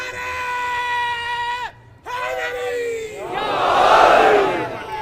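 Large crowd at a mosque majlis gathering chanting slogans in unison, a sustained loud collective roar with a brief pause, then rising into a broad swell of voices.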